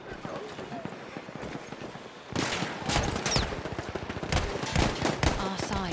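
Enemy machine gun fire in the Battlefield 1 video game crackles in rapid bursts, growing louder and denser partway through, mixed with explosions and a voice speaking over the battle.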